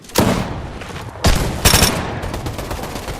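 Gunfire cracks out during a Fortnite FNCS grand finals match, several sharp, loud bursts over about three seconds. Each hit trails into a rough decay and the shots come from close by, with no voices over them.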